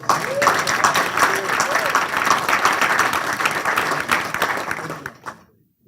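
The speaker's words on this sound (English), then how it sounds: "Let's give him a round of applause." Sustained applause from the audience at an African American studies panel discussion, a full crowd clapping for several seconds before fading quickly to silence, with faint voices mixed in.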